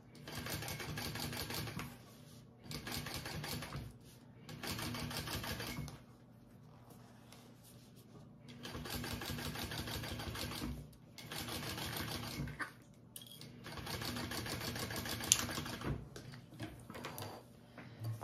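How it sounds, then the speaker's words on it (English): A sewing machine topstitching a bag flap runs in about six rapid, loud bursts of stitching, each a few seconds long and split by short pauses, close up and alone. "so I top stitched my flap up."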